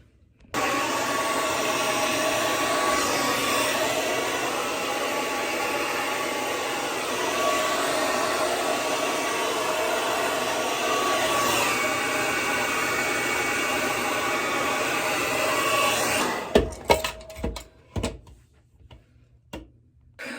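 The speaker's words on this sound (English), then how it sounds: "So let me get my blow dryer." A hair dryer blows steadily and loudly for about fifteen seconds, then switches off, leaving a few clunks and handling noises.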